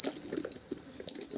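A bright, high-pitched bell rings in quick repeated strikes, sustained tones chiming twice in short bursts over a brief moment, loud and close as a sound effect with faint voices under it.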